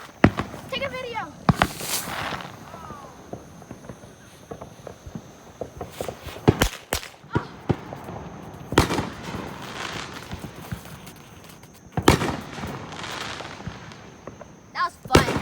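Backyard Fourth of July fireworks go off in sharp crackling bursts and pops, some loud and close, scattered irregularly with quiet gaps, as voices talk and footsteps move around.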